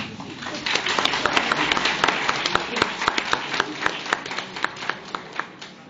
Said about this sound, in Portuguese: Palmas para esses gênios da língua portuguesa.